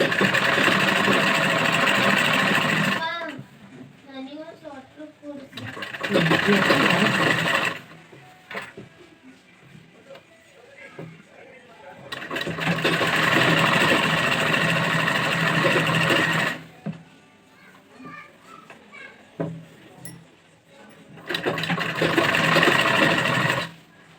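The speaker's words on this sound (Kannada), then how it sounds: "ಹೊಲಿಗೆ ಹಾಕ್ಕೊಳ್ತೀನಿ" Sewing machine stitching the fabric top of an umbrella, running in steady bursts of a few seconds each with short pauses between, a loud, even mechanical whir close by.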